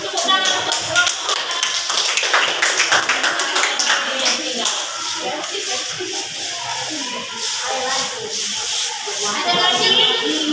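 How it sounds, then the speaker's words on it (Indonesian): Students in a classroom clap for a group that has just presented, an uneven patter of hand claps under faint background chatter that continues for about ten seconds. "beri tepuk tangan untuk kelompok"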